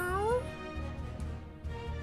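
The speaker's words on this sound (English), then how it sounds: "Oh, it's just a super cat." A cartoonish cat meow from the Final Fantasy VI video game, a short rising tonal cry at the start over a steady synthesized music bed.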